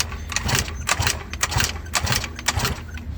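An Eaton Beamer Matrix 2 engine runs after a rebuild, a rough, close, loud putter with a pulsing, uneven rhythm and sharp rattling bursts, as if barely keeping itself going.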